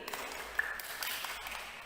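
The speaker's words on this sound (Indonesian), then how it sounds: "Tepuk tangan lagi." A church congregation claps hands during a worship service, a fairly faint, diffuse patter of clapping with a thin tonal sound briefly rising from the background.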